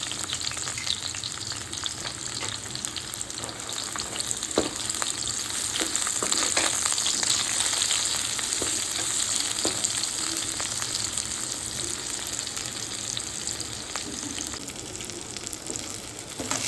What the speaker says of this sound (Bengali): বেগুন দিয়ে বেগুনগুলিও হালকা ভেজে নেব।